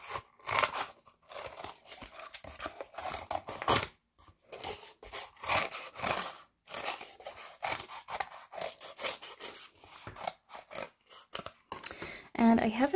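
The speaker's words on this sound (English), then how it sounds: "you want to take a piece of cardboard and you want to cut it into a circle" Scissors snip through a piece of cardboard to cut out a circle, an irregular series of crunchy, rasping cuts close by with brief pauses between strokes.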